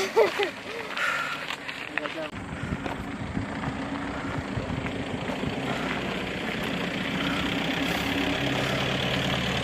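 An engine idles and runs nearby with a steady low rumble on a remote high-country road, continuing throughout the clip.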